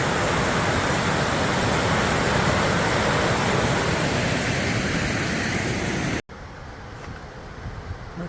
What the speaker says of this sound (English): There are many waterfalls on this river.